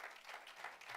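Brief, faint applause from a church congregation during a worship service, a soft blended patter of hands clapping for a moment without a clear break.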